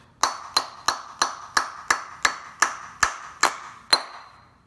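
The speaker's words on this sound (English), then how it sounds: "I'm just going to tap it lightly here, get that pressed all the way in place." Light metallic taps seat a new bearing into an Integra power steering pump, eleven sharp ringing strikes at a steady rhythm of about three per second, close and clear with no talk.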